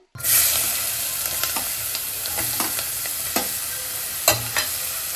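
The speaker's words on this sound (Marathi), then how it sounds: "आता बटर हा वितळत आलाय" Butter melting into hot oil in a pan, a steady bright sizzle and hiss up close with a few sharp crackles and spoon taps scattered through.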